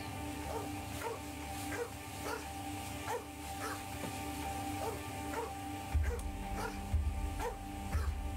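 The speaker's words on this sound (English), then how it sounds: "It would have been all right but for that infernal dog." A dog barks repeatedly in the video game The 39 Steps, sharp yips at a steady rhythm against a low background hum, with a deeper rumble joining near the end.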